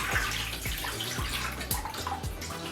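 Rinse water pours out of a film developing tank into a sink during home film developing, a continuous splashing stream with repeated low gurgles as the tank is emptied, close and steady.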